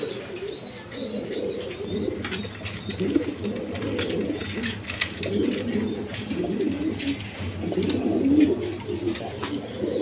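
Pigeons coo in a continuous low, throaty chorus at a pigeon sale, with scattered chirps and occasional wing flutters among the crowded birds, steady and close throughout.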